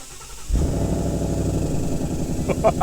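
A wrecked 2017 Ford Mustang GT being converted with Ford OEM GT350 parts cranks and fires after a short quiet moment, then settles into a steady, rumbling idle close by, with a few faint clicks near the end.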